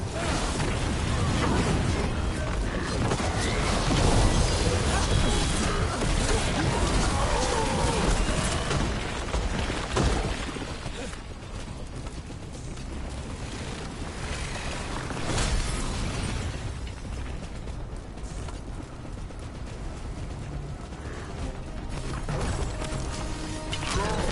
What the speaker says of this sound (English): Cannon fire! Get clear!